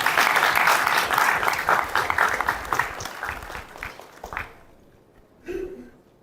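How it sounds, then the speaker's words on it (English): Audience applause at a Constitution Day 2025 gathering of the Supreme Court Bar Association, a dense round of clapping for about four seconds that fades out, followed by a brief faint shuffle. "I request everyone to kindly welcome them with a huge round of applause."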